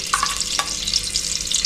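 Ghee sizzles in a pressure cooker over a medium flame, a loud, steady, close hiss with a bright, frothy crackle that holds without a break and has no talk over it.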